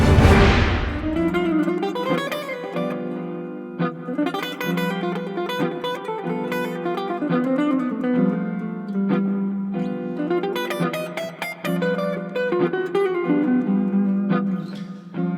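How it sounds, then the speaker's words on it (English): A guitar plays a continuous melodic line of single notes and chords in the Mixolydian mode, unaccompanied and clear at moderate volume. "What you're hearing here is the Mixolydian mode."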